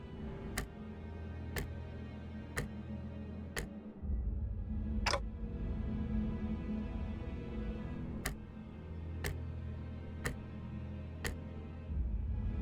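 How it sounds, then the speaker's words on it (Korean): Clock ticking in the video game Limbus Company: sharp, evenly spaced ticks about a second apart, a brief gap in the middle, then the ticking resumes over a low background drone. "째깍대는 소리가 빨라지는 걸 보니 아파하기는 하나 봐"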